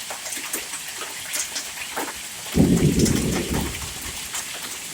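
Hail and rain pelting a truck during a West Tennessee hail storm, a dense steady patter of small impacts with a deep rumble of thunder rolling in partway through, no talk.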